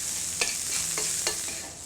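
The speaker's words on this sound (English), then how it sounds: "We'll add those shallots and give them a quick saute for only about 1 minute" Shallots sautéing in a pan, a steady close sizzle broken by a few brisk scraping stirs of a utensil, with no voices.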